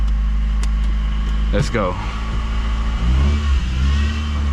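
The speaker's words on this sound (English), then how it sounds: "That power steering pump is making so much noise." A car engine runs with a whining power steering pump, a steady hum under a short spoken remark, then the engine revs briefly near the end.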